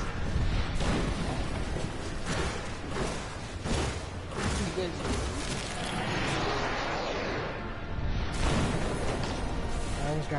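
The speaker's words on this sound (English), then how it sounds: "I almost got trapped in that explosion." Booming blasts and bursts from a Diablo game explosion fill the stretch, loud and close, with dense crashing debris and a heavy swell near the end.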